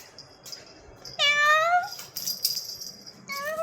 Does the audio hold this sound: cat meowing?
yes